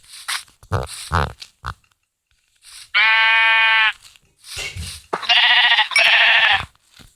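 Two loud, drawn-out bleats from a sheep in a survival video game, the first around three seconds in and the second near the end, alone with no speech and brief clicks between them.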